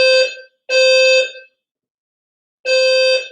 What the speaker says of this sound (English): we have a fire alarm going on